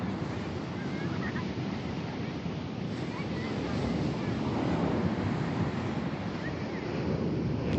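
Steady ocean surf rolls continuously on a beach at Trinidad, California, a broad wash of waves with wind noise on the microphone and no talking.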